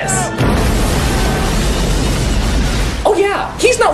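A car explodes in the action film Double Team: a loud, sustained blast rumbles for nearly three seconds, and a voice speaks briefly as it fades.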